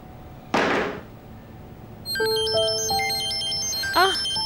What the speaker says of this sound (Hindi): यास्मीन खाला की कॉल है, शायद अदा मिल गई होगी।